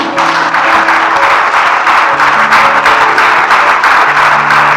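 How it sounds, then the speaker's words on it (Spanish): A church congregation claps and applauds loudly and steadily, a dense wash of many hands close by, with a sustained tone from music or an organ running beneath. "Denle un fuerte aplauso al Señor."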